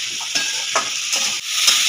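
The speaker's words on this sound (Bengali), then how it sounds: "এরপরে ভালো করে আমি মশলার সাথে সবজিটা কষিয়ে নেব" Mixed vegetables with fried pointed gourd are sautéed in spices in a pan: close, bright sizzling broken by about four rhythmic stirring strokes, with no voices.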